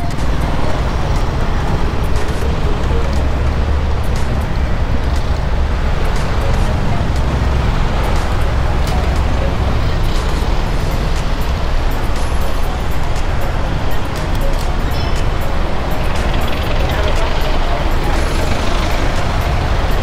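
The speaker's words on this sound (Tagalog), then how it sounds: "Ayan, traffic naman guys" Dense, steady road traffic in Caloocan with buses, trucks and cars, a loud continuous roadway roar with occasional air-brake hisses and engine rumble filling the whole stretch, faint voices mixed underneath.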